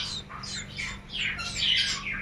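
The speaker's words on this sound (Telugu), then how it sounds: "నోరు తెరిచి కీక్ కీక్ కీక్ అని అరుస్తూ ఉంటుంది" A hungry baby bird chick squawks for food at home, sending out a quick run of high, raspy begging calls close by with nothing else over them.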